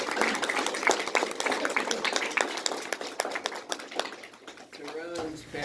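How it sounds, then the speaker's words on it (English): Applause from the audience at a high school graduation ceremony, dense overlapping claps filling the room for several seconds before fading, with a voice speaking briefly near the end. "please give yourselves a round of applause"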